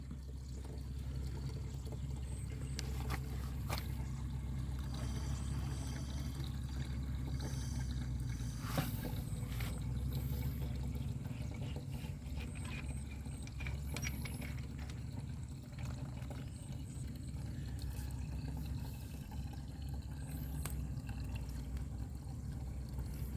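Water gushes steadily out of an ET 110 engine that runs fine but won't start, a continuous close pouring wash with a low rumbling undertone and no talk.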